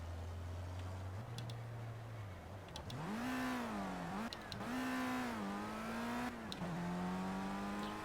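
A race car on a circuit in Project CARS revs hard and shifts up through its gears, the engine note climbing and dropping with each change, loud and close with no other sound over it.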